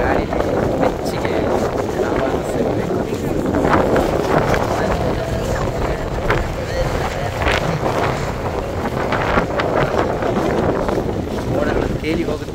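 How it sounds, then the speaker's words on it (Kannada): Cold wind buffets the microphone on a mountain trek to Satsar Lake, a steady loud rush lasting throughout, with faint voices mixed underneath. "ತಣ್ಣನೆ ಗಾಳಿ"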